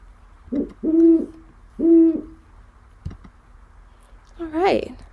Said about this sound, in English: Our great horned owl is calling a bunch.